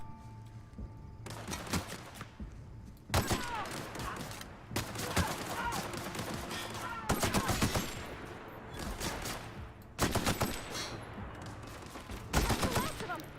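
Bursts of rapid gunfire from a weapon in the video game The Outer Worlds, with several loud clustered volleys separated by short pauses over a steady game soundscape.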